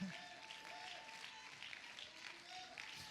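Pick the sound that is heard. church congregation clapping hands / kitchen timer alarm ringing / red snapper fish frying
church congregation clapping hands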